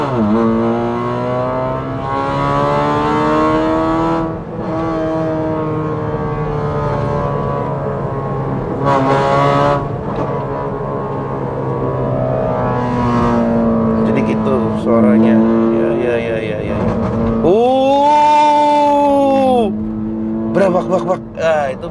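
A tuned Honda Brio's engine revs with harmonic tones rising and falling, broken by sharp popping bursts from the exhaust, loud and close, with some talk over it.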